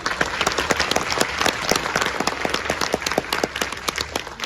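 An audience at a film event for the movie Lalo bursts into steady applause, dense overlapping hand claps sustained at moderate loudness without pause.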